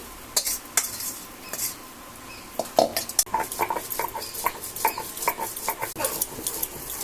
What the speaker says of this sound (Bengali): পাটা বেটে নিচ্ছি